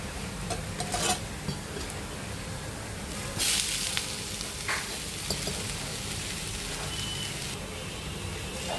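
Green mung dal dosa sizzles steadily on an oiled pan, a close continuous frying hiss with a few louder crackles and scraping moments as it is turned.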